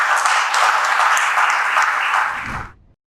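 An audience claps loudly after a speech at a women's leadership dialogue, dense sustained applause that holds steady for over two seconds and then fades out quickly.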